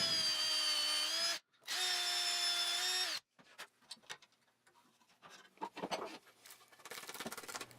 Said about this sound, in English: I went ahead and I drilled out all the mortises and cut all the tenons for the legs, the apron pieces, and the lower shelf frame